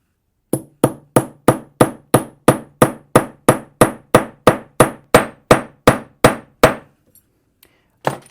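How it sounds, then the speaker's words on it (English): A ball-peen hammer strikes wire on a metal surface while forging an anticlastic ring: about seventeen loud, sharp, evenly spaced blows close up, then a short pause and two lighter taps at the end. "I've used the Ball-Peen hammer to create this extra texture on the sides and to thin the sides a little bit more"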